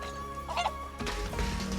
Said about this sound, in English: use the feed clanger and lure the missing chickens back to Kazura